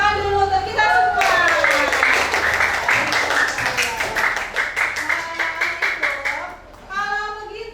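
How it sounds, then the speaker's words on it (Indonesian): A classroom group claps together in a burst of rapid, rhythmic applause, with children's voices and speech mixed in before and after. "Tepuk tangan dulu untuk kita semua."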